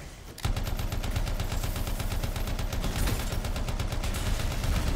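Rapid automatic gunfire in the video game Anthem, a dense run of sharp shots fired at an enemy, starting abruptly after a brief pause and continuing loud and unbroken for several seconds.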